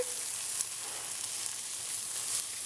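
Chicken pieces sizzle steadily in a hot pan while browning, a soft, continuous crackling hiss without pause.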